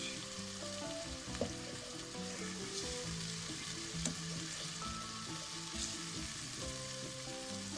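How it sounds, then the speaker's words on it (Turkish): Tomato and pepper paste frying in a pot, a steady close sizzle running throughout with occasional soft clicks of a spoon stirring, no voices. "salçalar iyice kavrulsun"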